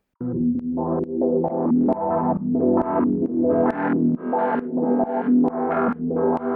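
A gritty, distorted acid synth lead plays a choppy, repeating melodic phrase with crunchy, buzzing tones, loud and upfront with no voices.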